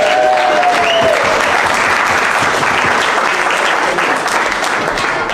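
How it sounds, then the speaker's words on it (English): Loud, sustained applause from a large crowd, with a brief whistle near the start and faint voices mixed into the clapping. "Give yourself a round of applause."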